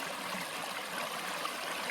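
A forest stream fed by spring water from the Kaz Mountains flows steadily, a soft continuous rushing and gurgle heard up close with no voices.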